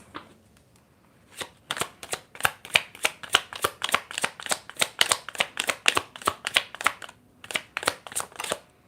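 Tarot cards riffle-shuffled in close, crisp bursts, about twenty quick snapping riffles in a steady rhythm after a brief quiet start, with no talking.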